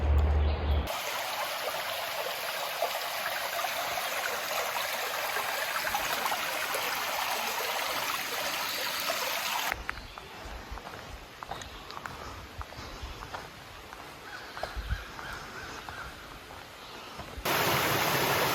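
Stream water along the Appalachian Trail between Unaka Springs Road and Curly Maple Shelter rushes in a steady broadband wash, loud and close at first, then softer and more distant, before swelling up again near the end.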